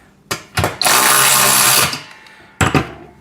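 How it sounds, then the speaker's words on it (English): A power tool tightens a washer and nut while a pec deck and rear delt gym machine is assembled. There are a couple of short bursts, then one long loud whirring run of about a second, and a final brief burst, all close by. "And we're just going to tighten that real quick"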